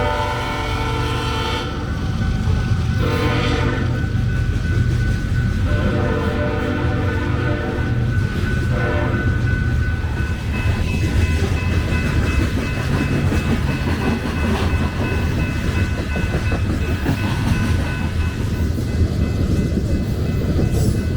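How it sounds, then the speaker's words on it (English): A BNSF Railway freight train led by locomotives 6739 and 8065 rumbles past loud and close, with a horn blast near the start and a steady heavy roar of wheels and cars throughout. "BNSF Railway numbers 6739 and 8065 are leading the charge."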